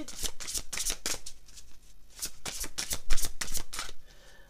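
Tarot cards being shuffled by hand in a rapid series of crisp, close riffling bursts, pausing briefly before starting again, with no talk.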